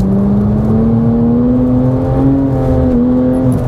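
A Porsche Cayman GT4 or GT3 accelerating on a race track, its loud, close engine droning steadily and rising gradually in pitch throughout.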